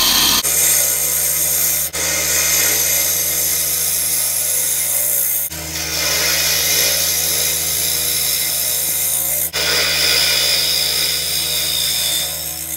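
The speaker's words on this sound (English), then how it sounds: "I prefer a spindle gouge for a majority of my end grain hollowing" A spindle gouge cuts end grain while hollowing a butternut branch vase on a wood lathe, giving a loud continuous hissing shear over the motor hum, broken by brief pauses between passes.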